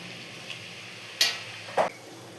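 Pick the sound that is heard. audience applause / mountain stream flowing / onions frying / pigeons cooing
onions frying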